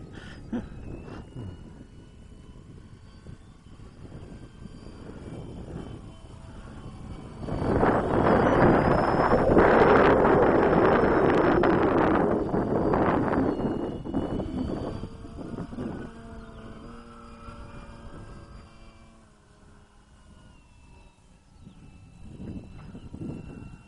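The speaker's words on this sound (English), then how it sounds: "Wind! I love the wind." Wind gusts buffet the microphone outdoors at a field where an Avios Grand Tundra RC plane is flying, rising into a loud roaring rush for several seconds in the middle and then easing back to a steady low rumble.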